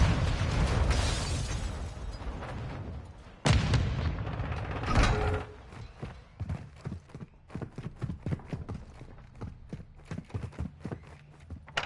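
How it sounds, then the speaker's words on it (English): A demolition charge detonates in a military shooter video game with a loud, heavy blast, then a second surge of booming noise, followed by a long run of rapid, sharp cracking pops like close gunfire. "Hunter 1, set a charge on the target and detonate it"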